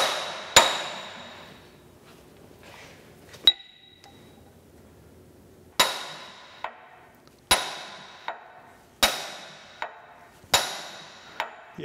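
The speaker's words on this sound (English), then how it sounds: "I got a brass drift here, 4-pound hammer." A 4-pound hammer strikes a brass drift during disassembly of a radial drill's universal table, giving sharp metallic clanks, two spaced hits and then a run of about six fairly regular blows at close range.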